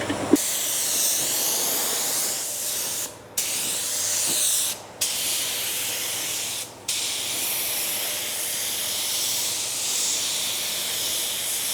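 A car paint spray gun lays down a coat, steady loud hissing spray in long passes, cut off briefly three times as the trigger is released, close and without talk.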